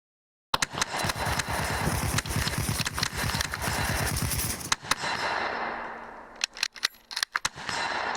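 Soldiers fire guns in a video game, a fast rattling burst of shots that runs for several seconds, then breaks into scattered single cracks and short bursts.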